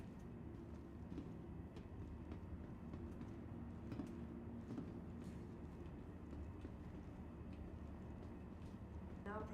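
A train rumbles steadily into a station in Star Citizen, a low continuous rolling drone with faint clicks, fairly quiet and unbroken.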